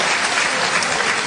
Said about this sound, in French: Merci Jean, oui, on peut applaudir le Seigneur